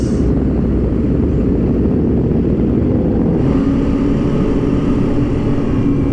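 An Aprilia RS660 motorcycle engine drones steadily while riding, a loud, constant low rumble mixed with wind buffeting, heard from the rider's position.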